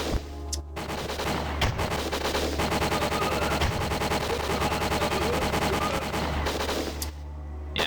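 Turret gunfire in the N64 video game Winback, a loud, continuous rapid burst of automatic shots lasting several seconds, with sharp single reports at the start and end.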